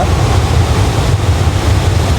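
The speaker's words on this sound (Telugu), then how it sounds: "అన్ని అన్ని ఊర్ల నుండి ఈ వాటర్ ఫాల్కి ఇక్కడనే కలిసిపోయి గంగకి వెళ్తాయి" A waterfall where streams from surrounding villages meet and flow on toward the Ganga, its water rushing as a loud, steady roar that fills the whole stretch without a break.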